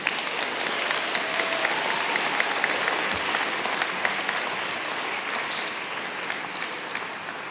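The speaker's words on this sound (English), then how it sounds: "You can clap again if you'd like." A large crowd at a university fall convocation ceremony bursts into sustained applause after the degrees are conferred, a dense, even wash of clapping that holds steady throughout, with a faint voice or two underneath.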